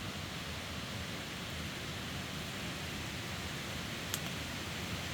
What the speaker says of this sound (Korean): 물소리가 아주 그냥 장관이네요.